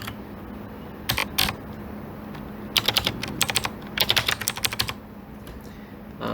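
Keys clack on a computer keyboard in short bursts, a couple of isolated taps followed by quicker clusters of keystrokes as binary digits are entered, close and crisp over a quiet background hum.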